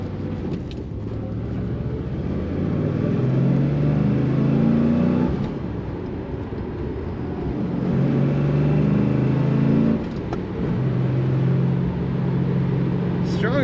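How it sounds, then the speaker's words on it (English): A 1979 Chevrolet Camaro Z28 accelerates hard with a loud, rumbling engine note that climbs through the revs, drops back at each shift, and climbs again, heard up close from inside the car. "Strong acceleration from this Camaro."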